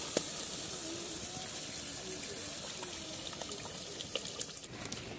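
Water poured into a pan of red masala for an Odia-style egg curry, a steady close splashing gush that runs for several seconds with small liquid clicks near the end.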